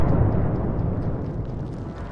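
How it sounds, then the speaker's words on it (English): A tank struck by a Javelin missile explodes: a loud, dense roar of broadband rumble that carries on and slowly fades over about two seconds. "This shot hit the tank directly and caused a massive explosion, fully destroying it."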